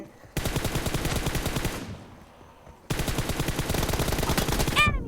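Rapid automatic gunfire from a mobile shooting game, a loud sustained burst that breaks off, then a second long burst of fast repeated shots with a brief ricochet-like whine near the end.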